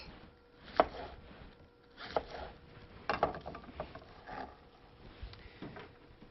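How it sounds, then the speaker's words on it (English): A knife chops through shredded cabbage on a board by hand, a handful of irregular, soft thuds and knocks spaced across several seconds, close and quiet. "just use a knife and cut all the shreds from your cabbage by hand"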